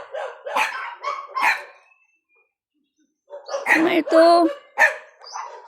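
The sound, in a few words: dogs barking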